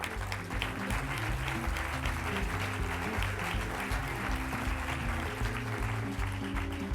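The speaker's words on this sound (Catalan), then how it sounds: "El rebem també amb un aplaudiment." An audience at an awards ceremony claps steadily throughout, a dense wash of applause sitting over low, rhythmic background music.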